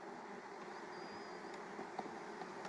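Honeybees humming in an opened multi-frame hive while a beekeeper inspects the frames, a steady, soft buzz with a few individual bees whining past nearby.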